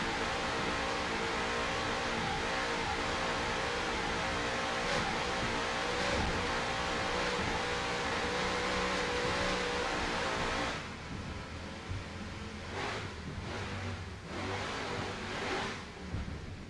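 Racing powerboat engines of the Super V class boat Instigator roar loudly and steadily at a Key West world championship race, with a drop in pitch and a rougher, choppier engine note toward the end.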